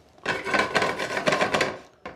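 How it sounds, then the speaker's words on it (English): A knife chops olives on a cutting board in a kitchen where onions, garlic and fennel seed are sautéing, giving a quick run of close, crisp chopping strikes that stop briefly, then one more cut at the end. "I'm going to continue chopping these olives."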